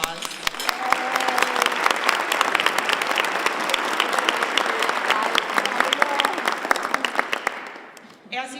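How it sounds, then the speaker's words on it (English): An audience at a 2019 luncheon applauds in a dense, steady burst of many hands clapping for several seconds before it tapers off, with some voices mixed in. "could you please join me in giving them a round of applause?"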